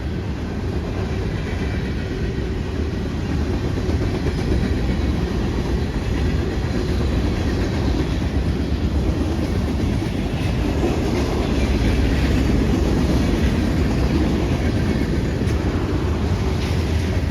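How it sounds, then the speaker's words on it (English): A freight train led by two low-nose GP38-2 diesel locomotives passes on a Pennsylvania main line with a loud, continuous rumble and steady clickety-clack of wheels over rail joints. No voices are heard. "Two low-nose GP38-2s still getting the job done on the main line in 2021."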